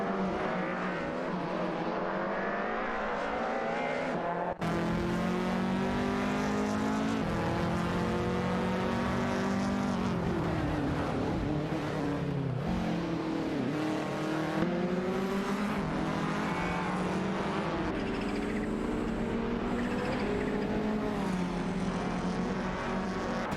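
Rally cars in an AI-driven racing video game, including a Lancia Delta HF Integrale and a Toyota Celica, roar continuously with rising and falling engine pitch as they shift gears, loud and close throughout.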